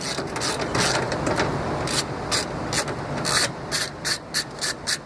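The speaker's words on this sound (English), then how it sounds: "with a 1/2-inch socket, remove the 2 screws" A 1/2-inch socket ratchet backs out the screws on the steering column bracket of a 1963 Ford Falcon, giving a close series of rapid clicking bursts with short pauses between them, faster at first and then in distinct spurts.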